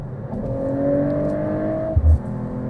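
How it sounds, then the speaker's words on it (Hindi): A Mercedes-AMG CLE 53 4Matic+ in comfort mode accelerates from low revs, its engine note rising steadily in pitch with a smooth whir, ending in a brief low thump. "अब मैं एक्सेलरेट करूँगा"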